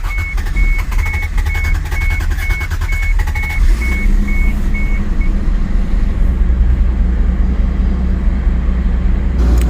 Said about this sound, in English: Push the clutch in, neutral, and it's fired up.